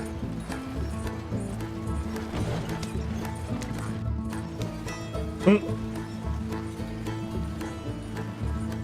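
Rhythmic clip-clop of a horse's hooves in Red Dead Redemption II over a droning ambient backdrop, steady throughout, with one sharp louder hit midway and someone talking over it.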